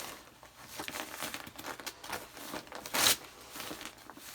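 A knife is pushed hard to cut through fiberglass batting insulation, giving soft, close, intermittent crinkling and tearing scrapes with one brief sharper rip.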